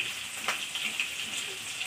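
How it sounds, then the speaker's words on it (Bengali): Cumin seeds frying in a pan for a Bengali fish curry, a soft steady crackle and hiss with small popping ticks, faint and close. "এই দেখেন জিরে কটা ভেজে নিয়েছি।"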